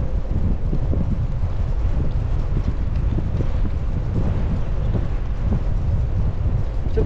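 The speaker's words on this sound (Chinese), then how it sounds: "就不见我上坡的时候这么大风了" Strong wind blasting a cyclist on a high mountain pass, a steady loud roar with buffeting gusts hitting the microphone throughout, no talk.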